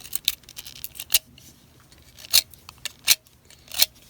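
A pencil is cut down with scissors or a blade, giving a handful of sharp, crisp snips spaced irregularly over a few seconds against a quiet background.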